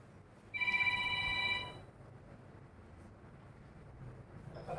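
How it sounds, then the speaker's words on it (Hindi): A mobile phone ringtone sounds in a classroom, one bright electronic ring lasting about a second before cutting off, leaving quiet room noise behind. "हर रोज कोई ना कोई बच्चा मेरे को रिंगटोन सुना रहा है।"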